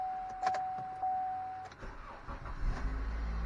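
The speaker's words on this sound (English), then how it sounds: "At first, I didn't like the way it cranked. It didn't sound too good" A 2013 Chevy Malibu LTZ engine cranks and catches after vacuum pump work, with a steady tone at first, then a low idle rumble building and settling alone, moderately quiet and close.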